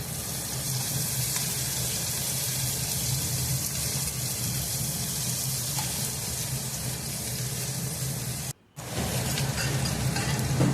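Tomatoes sautéing in a pan for a mung bean dish, a steady close hiss and sizzle running continuously with faint stirring, cut briefly by a short silent gap near the end.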